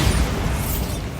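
Bombarda spell blast in Hogwarts Legacy, a short, heavy low rumble of an explosion that fades over about a second, with no voices.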